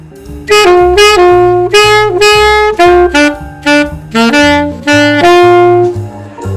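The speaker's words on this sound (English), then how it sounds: "A solo using only chord tones would be kind of lame." A saxophone improvises a jazz solo built only from chord tones, moving in steady, connected phrases over a walking bass and comping accompaniment that stays prominent and continuous throughout.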